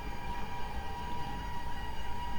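An Indian superfast express hauled by a WAP-5 locomotive with blue ICF coaches rumbles past in the MSTS train simulator game, a steady loud rolling rail noise with a constant high tone throughout and no talk.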